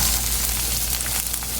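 Chopped onions frying in a pan with curry leaves and lentils for poha, a steady close sizzle that stays even and loud throughout with no talking.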